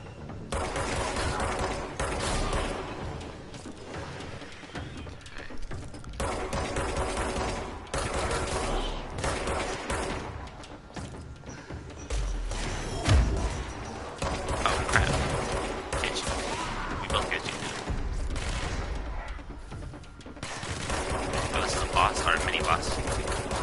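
Gunfire from the video game Control, with bursts of rapid shots going off almost continuously and loudly, mixed with game sound effects and impacts, while a player talks over it.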